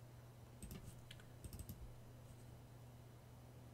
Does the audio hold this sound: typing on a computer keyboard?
yes